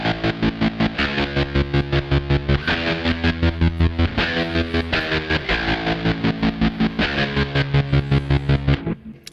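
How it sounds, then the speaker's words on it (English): A six-string bass played through a Kemper Profiler with a pulse slicer effect chops each sustained, distorted note into rapid, evenly spaced pulses, loud and rhythmic, with a touch of room reverb. "It's a pulse slicer."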